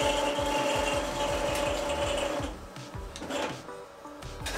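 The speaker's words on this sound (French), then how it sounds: "Donc je vais venir avec ma torche maintenant dire à ma machine un peu où est ma tôle." A CNC plasma cutter's gantry moving its torch toward the corner of a metal sheet, a steady close mechanical ratcheting whir of motors and gears that eases off partway through, with no talking.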